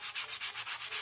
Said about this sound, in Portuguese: Já lixei em cima e um lado, agora eu vou lixar esse outro lado aqui.